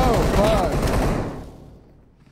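Gunfire in a shooter video game: loud rapid bursts of shots in the first second and a half, then the sound thins and fades out to near quiet.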